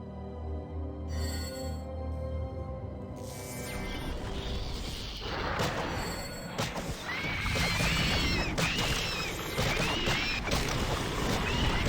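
A newly summoned Mhulliq mount in a fantasy video game, heard as snorting, whinny-like animal calls with splashing and movement around a relaxation pool, continuous and fairly loud with no speech.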